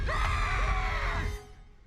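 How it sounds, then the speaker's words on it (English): Goat-like scream sound effect in a Haunted Mansion holiday special, one loud wavering cry that rises and bends in pitch for over a second, then cuts off abruptly into quiet. "it's the funny goat scream"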